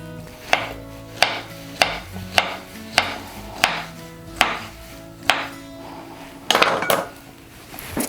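Bananas being finely chopped with a knife for a creamy fruit chaat, about ten evenly spaced, crisp knocks of the blade on a board, close and clear, with a few quicker clatters near the end and no talking.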